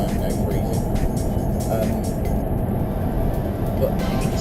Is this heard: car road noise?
yes